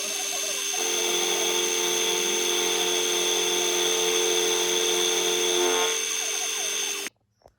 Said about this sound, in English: Now I need to mill a flat on here